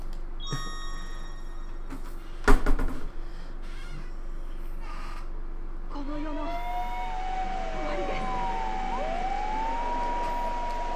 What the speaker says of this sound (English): The sounds of fire trucks and patrol cars echoed through the streets.